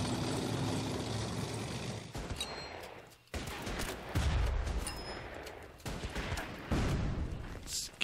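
Dense gunfire in a WW2 jungle battle video game set on the Burma Road in Arakan, loud continuous volleys and bursts with rumbling engine noise beneath, near and intense throughout.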